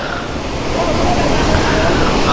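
A waterfall near a playground area pours in a steady, loud broadband roar that fills the whole stretch without a break, with faint crowd voices blended underneath.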